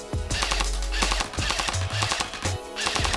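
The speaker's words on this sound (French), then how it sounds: "Donc là je suis en mode full auto et je fais des petites rafales." An airsoft replica rifle firing short full-auto bursts, loud rapid mechanical rattling close by in several quick volleys with brief gaps between them.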